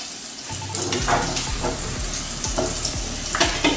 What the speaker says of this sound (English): You need to keep stirring occasionally while you are frying it.